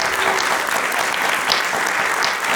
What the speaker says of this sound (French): Donc un grand merci à tous pour vos applaudissements.